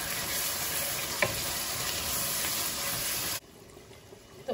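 Meat frying with whisked yogurt stirred in for turnip curry over low heat, a steady close sizzle with a sharp utensil knock, then it drops to a quiet hush near the end.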